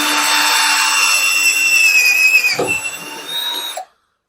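A power drill in first gear bores a hole, giving a loud, steady high whine that dips briefly in the middle, recovers, then cuts off abruptly at the end.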